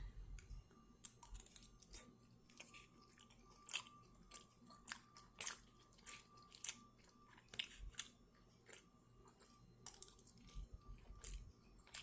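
Someone chews a bite of bowtie pasta with sausage close to the microphone, with soft wet smacking and small crunchy bites in an uneven rhythm, quiet and with no talking.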